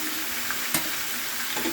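Chicken feet cooking with spices in a pan, stirred with onion and garlic; a constant mid-level sizzle with one sharp scrape or clack of the spoon near the middle, no talking.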